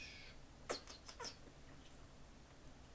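A kitten meows in a few short, thin cries close by, then falls quiet over a faint low background hum.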